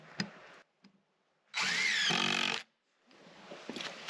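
Power drill whirs loudly for about a second while driving a screw into boards on a farm, up close between quieter handling noises.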